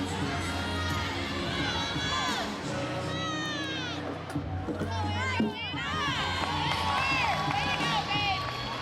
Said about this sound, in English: But just listen to the crowd.